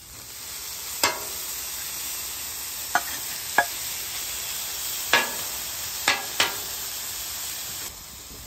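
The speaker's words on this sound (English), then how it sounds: "warm that cheese sauce up just a little bit" Cheese sauce warms in a pan under a steady soft sizzle, with several sharp clicks of a utensil scraping and knocking against the pan as it is stirred.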